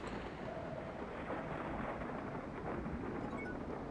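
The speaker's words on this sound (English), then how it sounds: "We have permanent thunderstorms." A continuous thunderstorm effect from the Star Trek: Judgment Rites computer game, a low steady rumble of rain and thunder, faint and unbroken, with no talk.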